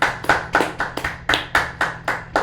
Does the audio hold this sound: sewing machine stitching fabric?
no